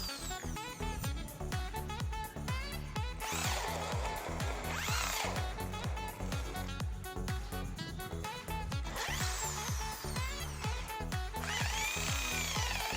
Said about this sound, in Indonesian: saya akan mengebor pada media kayu tram besi.